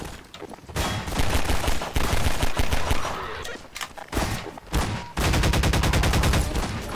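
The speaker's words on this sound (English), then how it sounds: "let's just get out and shoot" Dense gunfire in the Half-Life 2 train level: loud, rapid bursts and volleys of shots run almost continuously, with short lulls between heavy stretches of firing.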